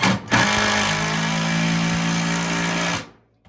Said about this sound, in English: we put in about four of these screws per joist